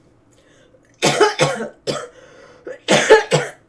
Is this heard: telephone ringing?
no